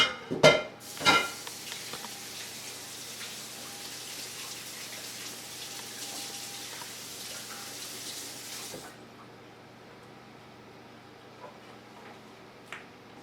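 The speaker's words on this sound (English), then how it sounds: "I have to wash my hands again" Hands washed under a running tap in a home kitchen while baking an apricot tart, a steady close stream of water after a few sharp knocks, then the flow stops and a quiet room remains.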